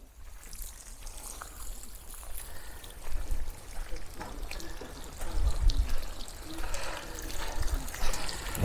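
Spring water flows freely from a public spring in Barnwell or Blackville, a steady outdoor splashing and trickling heard nearby with background noise.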